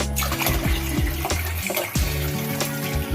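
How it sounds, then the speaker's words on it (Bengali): Water poured into a cooking pot of rice for Basanti pulao, a steady splashing stream with some crackle from the pot, set against a continuous tonal background. "আর 1 বাটির জল ঢালতে হবে।"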